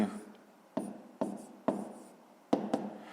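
Pen strokes writing numbers for a fifth-grade math exercise, a handful of short scratchy taps spaced irregularly, close and fairly quiet with no talk.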